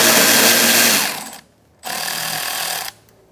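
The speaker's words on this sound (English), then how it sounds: "Using an 8mm socket, we're going to take out this bolt here." Two bursts of whirring from a power tool on an 8mm socket as it backs out a cooling fan bolt on a 2014-2019 Kia Soul 1.6L, each lasting about a second, with a short pause between them.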